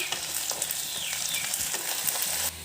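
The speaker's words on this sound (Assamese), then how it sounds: "এতিয়া এইখিনি কেঁচা গোন্ধটো যোৱালৈকে মই ভাজি ল'ম" Garlic-ginger paste fries in a pan with a steady, close sizzle and occasional stirring scrapes, no voices over it.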